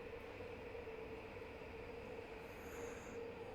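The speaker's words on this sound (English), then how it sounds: "Toyoko Line train." Steady rumble of a Toyoko Line train running in the UsoNatsu video game, a continuous low rolling drone with a faint high whine near the end, moderately loud and unbroken.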